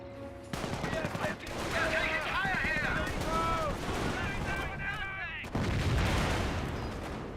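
Infantry units exchanging fire in the World War II strategy game Company of Heroes, with overlapping rifle and machine-gun bursts crackling steadily under a caster's commentary, a sharp louder volley breaking in near the end.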